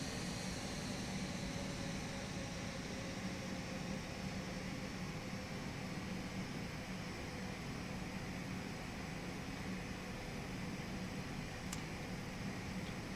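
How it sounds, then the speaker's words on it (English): Steady broadband whirring hum from flaps and slats retracting on a BAe RJ100 in the FSX flight simulator, constant and continuous throughout, with no speech. "Flaps coming up. Man, those things are noisy."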